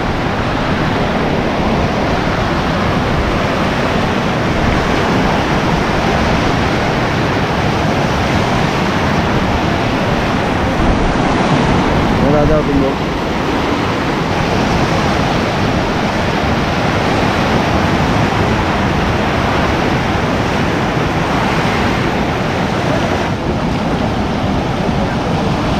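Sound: flooded Shivnath river rushing water

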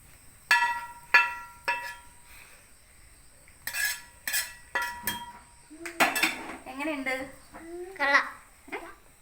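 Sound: fried egg transferred into a dish, pans clinking

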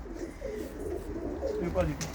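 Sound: Seera Sheffield pigeons cooing

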